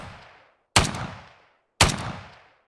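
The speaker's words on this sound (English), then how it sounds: "it does cold damage, and it is using rifle ammo. And this is how it looks like when you shoot it" Two loud cold-damage rifle shots in the survival game Ylands, each a sharp crack with a long fading tail, spaced about a second apart after the tail of an earlier shot, with no voices.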